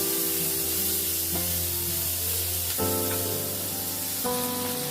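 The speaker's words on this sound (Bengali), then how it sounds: "স্প্রিং অনিয়ন দিয়ে দিলাম এটার সঙ্গে, দিয়ে এটার সঙ্গে আবার ভাজা করছি" Broccoli and spring onion stir-frying in a hot pan give a steady, close sizzle that runs unbroken for the whole stretch, with tonal background music layered over it.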